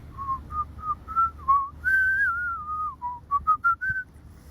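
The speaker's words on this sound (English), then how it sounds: "And whistling" A person whistles a wavering melody alone, sustained tones sliding up and down followed by a quick run of short separate notes, close and clear over a quiet background.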